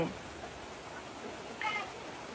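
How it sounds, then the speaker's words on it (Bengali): Heavy rain falls in front of a cowshed beside a house, giving a steady, dense hiss throughout, with a short higher cry briefly rising over it. "এই যে দেখছেন কি পরিমাণ বৃষ্টি হচ্ছে"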